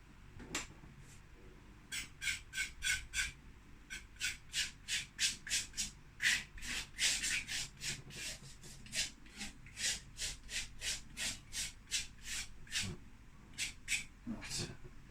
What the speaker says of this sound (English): With my palette knife once more, and just smoothing it out,